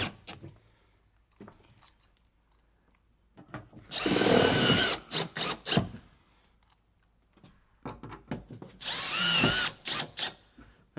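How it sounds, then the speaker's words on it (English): A power drill drives self-tapping screws into a van's wall paneling in two loud, sustained bursts of whirring and grinding, separated by quieter clicks and handling noises. "our drill and our self-tappers. Super simple to put these in. I'm just going to make sure you push real hard while you go in."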